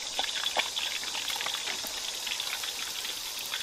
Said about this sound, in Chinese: 那个鱼炸到2面金黄酥脆，就可以把它捞出来了哈